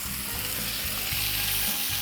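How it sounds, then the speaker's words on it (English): Loud, steady sizzling of chicken frying on a hot flat-top griddle, a continuous crackling hiss with no voices. "take this chicken right out of the bag and dump it straight on, and we'll listen to that sizzle"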